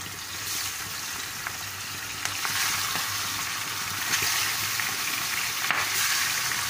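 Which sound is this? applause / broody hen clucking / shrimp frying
shrimp frying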